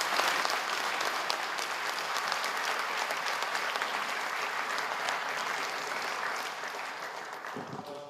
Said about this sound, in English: Please welcome him to the stage with a round of applause.